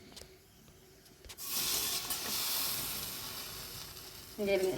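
Ground paste for a watery chutney simmers and boils in water in a pot, giving a steady loud bubbling hiss that swells partway through and runs on alone.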